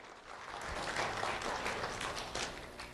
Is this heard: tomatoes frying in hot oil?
no